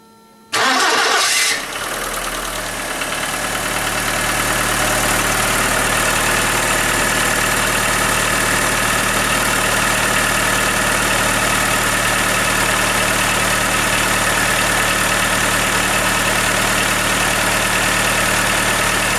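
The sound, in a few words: Skoda Fabia 1.4 engine starting cold and idling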